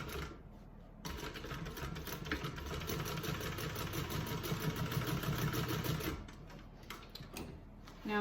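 An electric sewing machine runs a continuous stitching burst, closing a seam in a bag's lining with a half-inch allowance, its steady mid-pitched whir loud and close after a short quiet start, then it stops.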